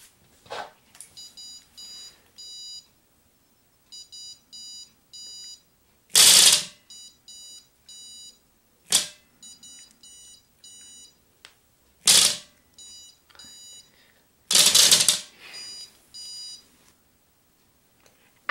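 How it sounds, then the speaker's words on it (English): An MSP430-based EE40LX robot beeps in repeated clusters of short, bright electronic tones, broken by several loud broadband bursts of noise, with quiet gaps between and no talking. "You also heard the robot beeping."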